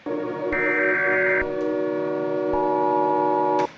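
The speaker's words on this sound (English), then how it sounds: "So it's this big, long audio, random alarms and stuff." Loud sustained alarm tones, harmonic and horn-like, shifting pitch in steps with sharp onsets, sounding alone for several seconds before cutting off abruptly.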